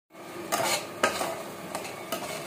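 Tomatoes cooking for paneer bhurji in a pan, with a steady low sizzle and a few sharp scraping stirs of a spoon against the metal, close and with no one talking.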